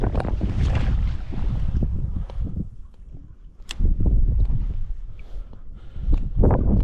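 Wind blowing across a lake during float fishing, gusty buffeting rumble that swells and dips in strong waves, close and loud with no talk.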